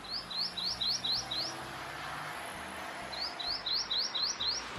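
A tico-tico, or rufous-collared sparrow, mimicking a verdinho-coroado sings two bursts of rapid, evenly spaced upslurred chirps, about six notes each, separated by a pause, clear over faint background hiss.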